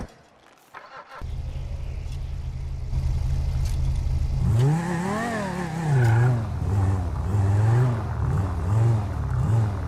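A car engine, set up for racing, starts and then drives off on a test run down a rural valley track, idling low before revving up loudly in repeated rising and falling surges, with no voices.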